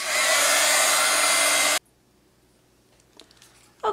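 A hair dryer blasts loud and close over ink droplets on paper, a dense steady roar for under two seconds that cuts off abruptly, leaving near silence with a few faint handling clicks.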